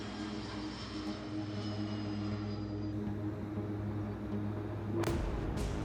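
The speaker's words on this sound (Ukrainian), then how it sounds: "Літак із Ніци заходить на посадку." A private airplane arriving from Nice on its landing approach, a steady engine drone heard from a distance and holding a continuous roar throughout, with a slight swell near the end.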